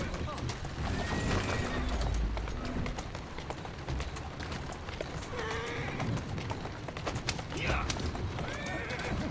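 A horse in the Assassin's Creed Syndicate video game whinnies several times over the clip-clop of trotting hooves, a steady rhythmic patter beneath louder, rising neighs, with a murmur of game ambience behind.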